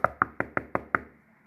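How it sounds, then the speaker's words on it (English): Knocking on a door: six firm, evenly spaced knocks, close and distinct, each fading quickly, followed by a short quiet stretch with no voices. "She's knocking on the door just like Tracy Banks was 5 minutes ago."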